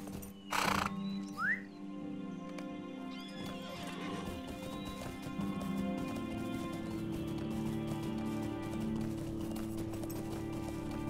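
Horse hooves clip-clop in the online game LOTRO, with a short whinny near the start, then a steady run of hoof beats over a busy ambient background of croaking and chatter.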